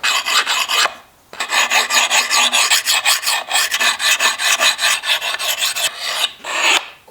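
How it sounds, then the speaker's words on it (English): A blade is sharpened with rapid back-and-forth rasping strokes to work off the burr, a loud, close, steady rhythmic scraping broken by two short pauses. "now we're just going to work that burr back and forth until it's completely gone"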